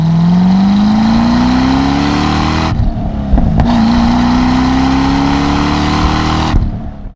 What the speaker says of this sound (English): one thing that makes the noise even better is that the butterfly valves in the quad exhaust system don't work